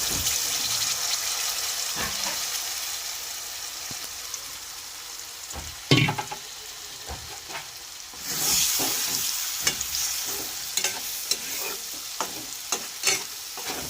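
Chicken chaap gravy and spices fry in oil with a steady close sizzle, broken by scraping stirs and clanks, and a hiss that rises suddenly as more goes into the pan.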